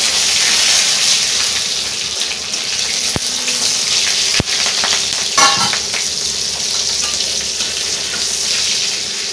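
Garlic, nigella seeds and slit green chillies fry in hot oil, a loud, steady close sizzle with a couple of sharp knocks and a burst of crackling midway.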